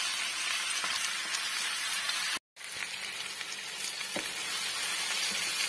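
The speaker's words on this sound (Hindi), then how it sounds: "ये मैं फ्राई करके आपको दिखाती हूँ, क्योंकि ये इसकी आवाज बहुत ज्यादा है" Vegetables frying in a pan with ginger and garlic, a steady loud hissing sizzle with crackling that continues throughout, briefly cut off for a moment, with no talking.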